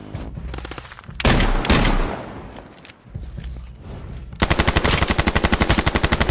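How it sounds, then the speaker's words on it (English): Rapid automatic gunfire in the video game H1Z1 rattles out in bursts, closing with a loud, evenly spaced string of shots that dominates the sound. "Holy crap, he's shooting me."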